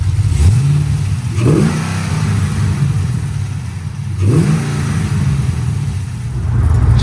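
A cammed Chevy Caprice with a 6.0L V8 and open long-tube headers rumbles loudly at a choppy idle, broken by two sharp rising revs, heard up close with no talking.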